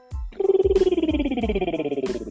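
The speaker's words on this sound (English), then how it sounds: "you could do things like lip trills, just descending like this" A voiced lip trill sliding gradually downward in pitch, a steady buzzing flutter held for about two seconds with no talking.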